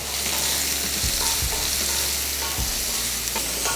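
Chopped onion sautés in a pan for a South Indian lunch dish, a loud continuous sizzle broken by a few low scraping stirs of the spoon, with no voices.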